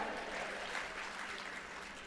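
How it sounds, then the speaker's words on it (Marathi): An audience at an education department event in Latur applauds steadily, dense clapping that holds at an even level for about two seconds with no voices on top. "टाळ्या वाजवा"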